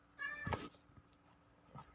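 A cat meows in the Minecraft video game, one short nearby meow with a fainter second one about a second later, and no talk over it.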